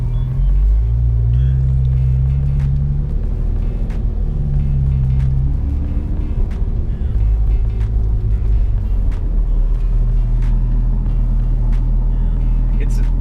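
A Porsche 911 GT3 is on the move, with a deep, loud engine rumble that rises and shifts tone through gear changes. A voice speaks faintly over the steady noise.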